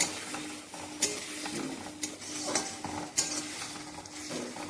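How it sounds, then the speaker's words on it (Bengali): Spices for a fish curry, including turmeric and chili powder, are sautéed and stirred in a pan, with a low sizzle under scraping and clinking of a spoon against the pan and several sharper knocks. "এখন ভালো করে কষিয়ে নেব।"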